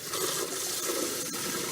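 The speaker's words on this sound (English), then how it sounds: "The way we do that is here in the sink with running water next to it" Tap water runs steadily into a sink beside a pot of freshly brewed Irish stout wort being cooled, a continuous close splashing rush with no talk.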